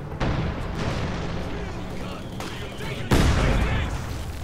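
Heavy mortar rounds from the World War II strategy game Company of Heroes 2 land in two loud, booming impacts, each followed by rumbling, crackling battle noise.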